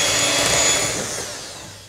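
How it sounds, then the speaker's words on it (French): An electric mixer whisks eggs vigorously in a bowl for a rolled chocolate-praline Christmas log sponge, giving a loud, steady whirring drone that fades slightly toward the end. "je casse mes œufs dans un bol. Et je vais fouetter énergiquement"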